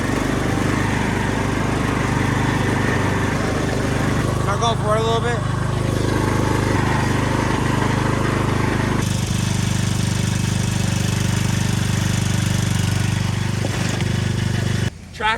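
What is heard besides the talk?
Craftsman lawn tractor engine straining while pulling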